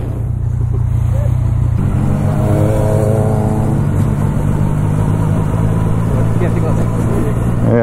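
Old motorcycle engine running close by, a steady loud low drone with rising revs in the middle, continuous throughout with wind and background noise.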